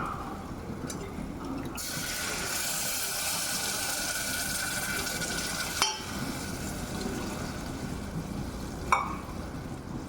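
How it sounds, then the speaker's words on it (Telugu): Tamarind pulusu broth poured into a mixture in a home kitchen, a steady faint liquid rush running for several seconds, with a couple of brief clinks. "పులుసు వేసుకున్నాను ఫ్రెండ్స్, పోసుకుంటున్నాను"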